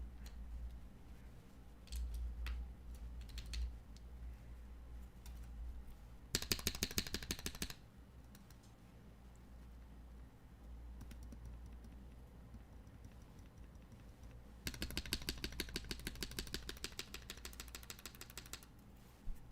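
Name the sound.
typing on custom lubed TKL mechanical keyboard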